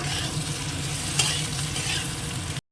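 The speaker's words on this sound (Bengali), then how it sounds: "এবার সয়াবিনটাও দিয়ে একবার একটু নেড়ে তুলে" Soybean chunks stir-fried with already fried potato and papaya in hot oil, a steady close sizzle with scraping stirs and one sharp clink of the spatula, cutting off abruptly at the end.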